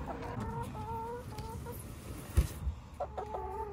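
Six hens cluck in a henhouse in short repeated bursts, several birds calling over a low background rumble, with a couple of dull thumps partway through.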